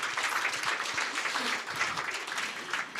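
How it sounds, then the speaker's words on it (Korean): A lecture audience at a talk on Vincent van Gogh gives a sustained round of applause, a dense wash of clapping heard from a moderate distance and fairly soft. "다시 한번 큰 박수 부탁드립니다."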